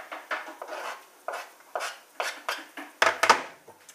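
Onions, mushrooms, garlic and tomatoes being mixed in a tin for chilli cheese, heard as a regular run of short scraping strokes against the metal, about two or three each second, close and fairly loud.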